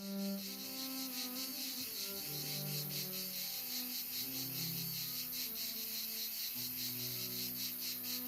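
Cicadas droning in summer heat on a Toledo cigarral estate, a loud continuous buzzing chorus with pulsing overlapping trills, close and unbroken, with no voices.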